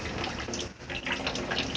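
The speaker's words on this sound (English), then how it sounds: "So then water can come down and drip off from those" Water dripping from plastic strips hanging from a towel into a bucket in an apartment entryway with a leak: a dense, steady patter of drops and trickling, fairly close.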